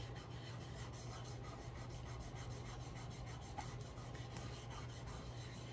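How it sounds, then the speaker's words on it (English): Hands rub and burnish Cricut vinyl onto a surface for Christmas decor, a faint, continuous scratchy rubbing with repeated strokes and a low steady hum underneath. "I will probably take my hands and burnish it really good."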